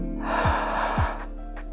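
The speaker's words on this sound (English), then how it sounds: "those are some pretty heavy breaths" Heavy, forceful breaths taken as beatboxing practice: a long rushing exhale with sharp snorting inhales at regular intervals, close to the mic and alone.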